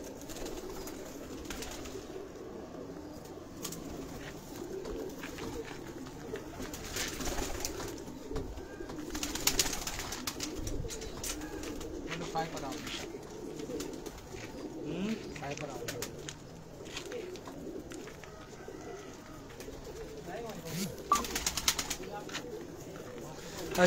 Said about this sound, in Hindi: यार छोड़ो मुझे कबूतर दिखाने दो,